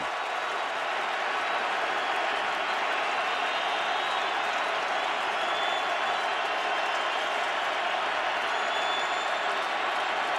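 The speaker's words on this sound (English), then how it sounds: "Crowd trying to jam the signals." A stadium crowd roars steadily at an NFL football game between the Chargers and Colts, a dense, loud, unbroken wall of noise as fans try to drown out the offense's signals.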